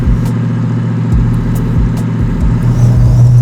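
A Chevy Chevelle with a 750-horsepower LS9 engine drives along, its steady low engine rumble loud and continuous throughout, with slight surges as it pulls.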